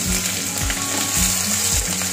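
Chopped onions frying in hot oil in a pan while a South Indian mango besaru is cooked, giving a steady, close sizzle with a few low scraping or stirring sounds running beneath it.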